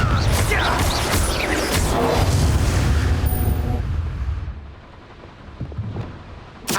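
Confringo blast-curse explosions in Hogwarts Legacy on Switch, loud rumbling booms with crackling debris that roll on for several seconds, then die away into quieter rumble before a final sharp burst.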